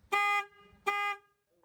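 Two loud, sustained, deep-toned blasts from a Denali SoundBomb Mini horn on a Honda NX500 motorcycle, each about a third of a second, with a short gap between them; clear and close, no talking.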